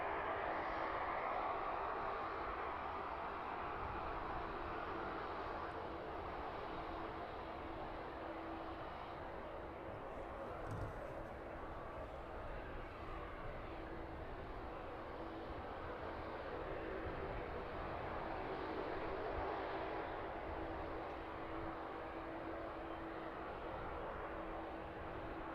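A jet aircraft taxiing onto a rear stand on the apron at East Midlands Airport in the evening, heard as a steady, broad engine roar that holds for the whole stretch with no voices.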